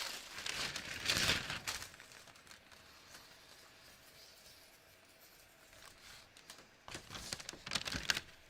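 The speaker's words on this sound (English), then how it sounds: "Let me just cut this out." Sticky tape measure being cut and handled in short crinkly, crackling bursts, loudest at the start and end with quieter rustling between.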